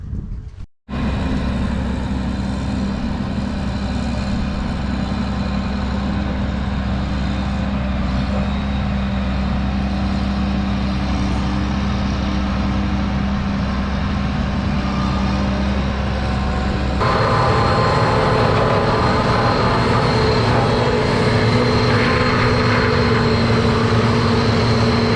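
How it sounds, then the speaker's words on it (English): A swather cuts through a stand of very tall sorghum in a field, its steady engine and machinery drone continuing without a break for the whole stretch, loud and close, and growing a little harsher near the end. "The swather's just eating it up and spinning it out, just like this."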